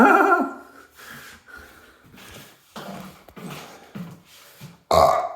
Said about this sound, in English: Start burping.